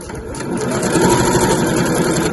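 A sewing machine runs a short back stitch on mesh fabric for a laundry bag, a close, steady whirring needle rattle that builds and holds briefly with no talk.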